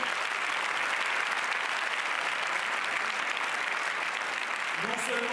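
Audience at the Cannes festival applauds steadily throughout, a dense continuous wash of clapping from a large crowd, with a few sharper claps near the end.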